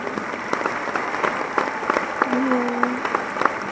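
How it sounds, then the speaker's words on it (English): Seminar attendees break into a round of applause, a moderate patter of clapping with scattered louder claps, while a voice briefly sounds over it. "Give my little Brittany a round of applause."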